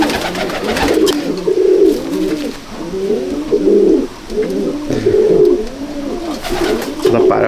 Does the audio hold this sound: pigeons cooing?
yes